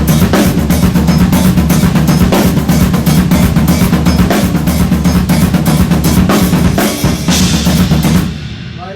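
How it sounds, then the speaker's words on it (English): A drum kit plays a beat with open hi-hat washes and a halftime snare, all dense and loud, heard close up. Steady, repeated hits keep going until the sound fades near the end. "if you open hi-hat, put a halftime snare in there, it sounds like this."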